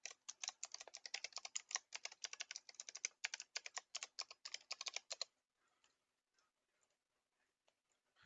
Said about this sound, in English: So we'll just type in our password again real quick.